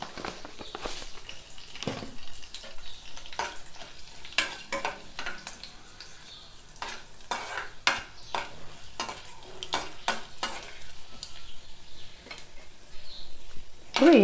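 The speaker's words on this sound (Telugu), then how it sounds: "తాలింపు గింజలు, ఎండుమిర్చి వేసుకుందాం." Tempering seeds and dry red chillies sizzle in hot oil in a pan, with a quiet, steady crackle broken by sharper bursts of spattering and the scrape of stirring.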